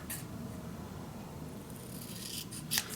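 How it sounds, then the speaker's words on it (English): Scissors snip through decorative paper while a boxed mini album and junk journal is being made, a faint soft rustling cut with a few crisp snips near the end, heard alone at low level. "just use your scissors from mark"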